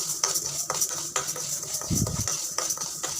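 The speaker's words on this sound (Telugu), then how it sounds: "ఇలా స్లో ఫ్లేమ్లో పెట్టుకొని దోరగా వేయించుకోవాలి" Mustard, cumin and fenugreek seeds roast in a pan over a slow flame for tomato pachadi, giving light, irregular clinks and scrapes of stirring with a soft sizzle underneath.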